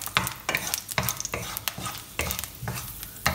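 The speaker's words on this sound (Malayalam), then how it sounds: "ഇനി ഞാൻ പച്ചമുളക് ആഡ് ചെയ്യുവാണ്. പച്ചമുളക് ഒന്ന് സോട്ട് ചെയ്ത്" Green chillies sauté in hot oil in a pan for a Kerala-style spinach stir fry. The sizzle runs steadily under repeated scraping strokes of a spoon stirring, close and clear, with no voices.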